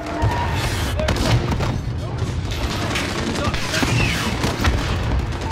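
A missile strike explodes in Call of Duty: Modern Warfare, heard as dense, rumbling booms and crackling gunfire-like bursts that run throughout. Voices talk over the battle noise.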